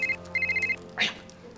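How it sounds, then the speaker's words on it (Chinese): A telephone rings in short electronic bursts, two quick rings with a pause between them, followed by a brief rustle or thud. "小倩电话"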